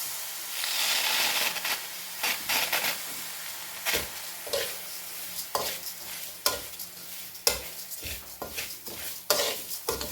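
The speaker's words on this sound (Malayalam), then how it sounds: "അത് നല്ല ഗോൾഡൻ ബ്രൗൺ കളർ ആവുന്നത് വരെ വറുക്കണം" Ponni rice is dry-roasted in a pan, with a faint sizzle under repeated scraping stir strokes that come in an uneven rhythm up close. No one speaks.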